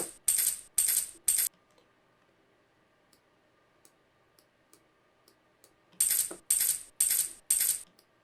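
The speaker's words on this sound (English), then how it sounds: "the second sound, which is the keys" Keys jingle in two bright, close groups of rhythmic shakes, three at the start and four near the end, separated by several seconds of near silence.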